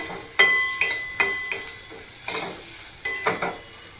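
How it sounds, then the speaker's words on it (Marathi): Rajma curry with garam masala and kasuri methi being stirred in a pan, a spoon scraping and clinking against the metal in a series of close, sharp strokes over a faint sizzle. "आता आपण हे छान मिक्स करून घेऊया"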